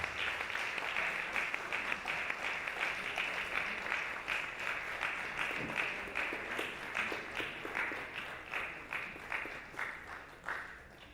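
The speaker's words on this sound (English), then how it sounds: "round of applause, round of applause" Audience applause at a live-streamed academy gathering, steady dense clapping from a crowd that continues throughout and begins to thin out toward the end.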